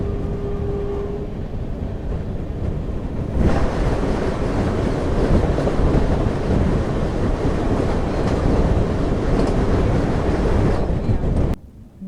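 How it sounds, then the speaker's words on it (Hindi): The Katra–New Delhi Vande Bharat Express rushes past close by, a loud sustained roar with rail clatter and wind buffeting the microphone, cutting off abruptly at the end. "बाकी ये आ गई सामने वंदे भारत एक्सप्रेस, देख सकते हैं आप"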